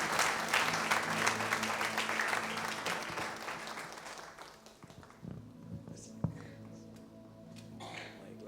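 A church congregation applauds to welcome a guest pastor, with dense, steady clapping for about five seconds that then thins to scattered claps and murmurs as people settle.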